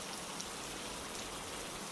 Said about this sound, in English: Rain whispers at the door.